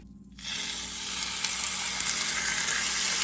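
Heavily salted and peppered chuck roast hits hot vegetable oil in a pan, breaking into a loud, steady, close sizzle after a brief quiet start and holding strong to the end.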